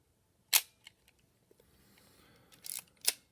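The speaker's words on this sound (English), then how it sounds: "just wanted to walk really quickly through all of the shutter speeds for you at 1/2000th of a second" A Voigtlander Bessa L film camera fitted with an Industar 22 50mm lens fires its shutter at 1/2000 second: a few sharp, close mechanical clicks with near silence between them.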